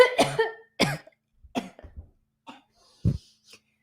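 A man coughs in a few harsh, close bursts, followed by quieter throat clearing and breaths in a quiet room.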